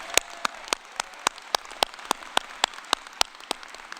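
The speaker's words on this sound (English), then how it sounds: "just give me a big round of applause for Audrey," Audience at the Kean University 2023 graduate commencement applauds Audrey Kelly, crisp, evenly spaced claps ringing out in a steady rhythm over a soft wash of crowd noise.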